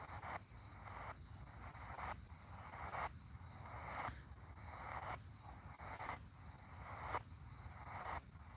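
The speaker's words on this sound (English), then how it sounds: "Crickets are going crazy right now." Crickets chirp at night beside a tent in a dense, steady chorus, pulsing in regular bursts about once a second, with faint hiss in the background.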